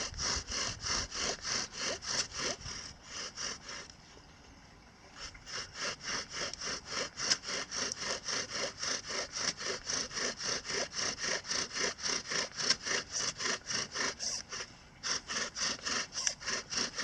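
A wooden bow drill spins in a fire board, producing a close rhythmic scraping and squeaking that rises and falls with each back-and-forth stroke, pausing briefly before continuing steadily.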